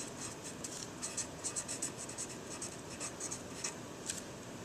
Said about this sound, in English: On the inside, I'm going to write the word perfect squares.